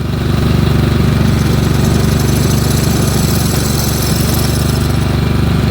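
A Snapper lawn mower engine runs loud and steady close by, with a dense mechanical drone and rattle that holds without letup.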